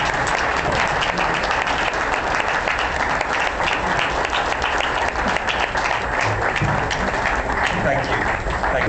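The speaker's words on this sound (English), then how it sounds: "just so that we can give them a special round of applause" A large press-conference audience applauds Virgin Galactic's national customers, with dense, steady clapping that holds at full strength for the whole nine seconds and never thins out.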